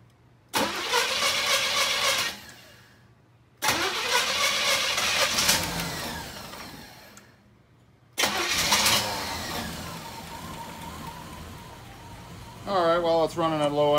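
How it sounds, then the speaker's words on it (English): A 1986 Oldsmobile Cutlass with a 305 V8 cranks and fires up three times in close succession, each start settling into a steady low idle, with someone speaking briefly near the end. "It's running at low idle."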